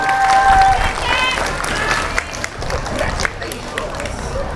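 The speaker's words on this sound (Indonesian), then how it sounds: "Beri tepuk tangan dulu dong" Children applauding a classmate: a short burst of clapping mixed with lively chatter and shouting voices close by.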